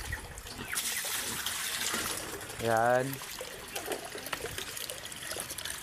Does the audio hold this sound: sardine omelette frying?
no